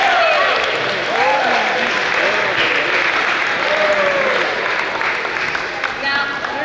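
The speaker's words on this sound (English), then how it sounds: "We gave them a round of applause." An audience at a training session claps in a sustained, loud round of applause lasting several seconds, with a few whoops and excited voices rising above the clapping.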